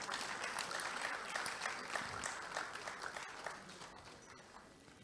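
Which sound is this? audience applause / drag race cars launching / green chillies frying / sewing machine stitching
audience applause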